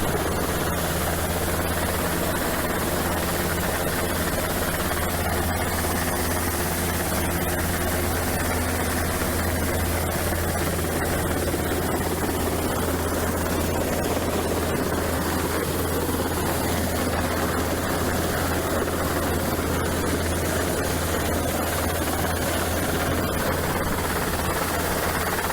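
An Irish Coast Guard rescue helicopter hovering low over a sailing boat during a hi-line transfer off Waterford, a loud, constant rotor and engine roar with a steady low throb running unbroken throughout.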